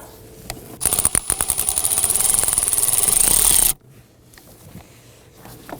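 A power driver whirs in rapid ratcheting pulses for about three seconds, snugging down screws on a Volvo S60 HVAC blower motor assembly, then stops abruptly, leaving faint handling noises.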